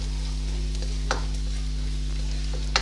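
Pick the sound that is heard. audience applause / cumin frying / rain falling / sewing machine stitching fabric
cumin frying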